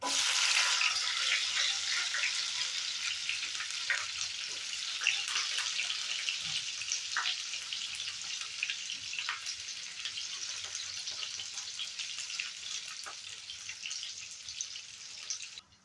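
Finely chopped garlic sizzles in a pan while making dal fry, a steady close hiss of frying that runs without a break from start to end.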